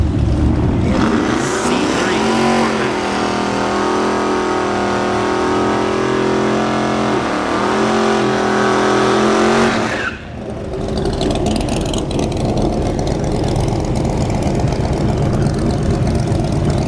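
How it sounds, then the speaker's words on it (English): A C3 Corvette makes a drag strip run at a test-and-tune session. The engine first idles with a loud, rumbling tone, then roars up through a hard revving launch before the sound cuts off abruptly and fades to distant track noise. "84 miles an hour for Junior in his C3 Corvette"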